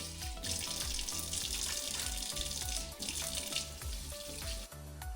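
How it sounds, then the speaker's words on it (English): Hands being washed under a running kitchen tap before making condensed milk bread, a steady hiss of flowing water beneath louder background music, with no talking. "Yes, you wash your hands."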